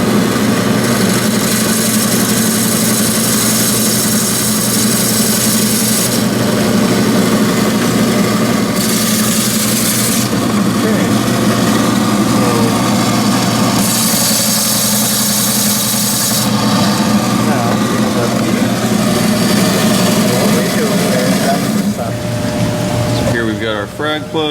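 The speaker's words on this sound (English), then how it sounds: "the more the coral kind of tells you where to take the saw" A saw trims through Goniopora coral and its calcium skeleton, a steady whining motor drone that cuts in and out in several bursts, with a person talking over it.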